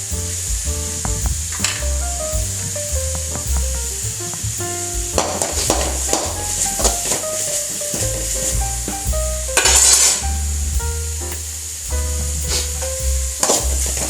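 Soya chunks with curry leaves frying over a medium flame for a Mangalore-style sukka, loud steady sizzle broken by frequent scraping stirs and clinks of a spatula against the pan, no voices.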